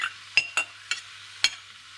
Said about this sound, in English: we add the cabbage into the pan to just warm everything through and mix everything through sufficiently